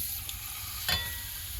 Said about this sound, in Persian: تیکه های مرغ رو به تابه اضافه کنید.